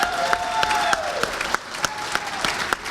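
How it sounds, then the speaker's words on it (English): A luncheon crowd applauds the 2018 Toledo Hockey Hall of Fame inductees, with steady clapping and a few sharper claps standing out. A voice carries faintly underneath throughout. "One big round of applause once again for all of our inductees today."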